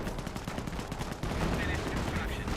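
Aircraft strafing runs in the World War II strategy game Company of Heroes: bursts of rapid automatic gunfire crackle and rattle over a dense battle din, with a louder barrage erupting halfway through.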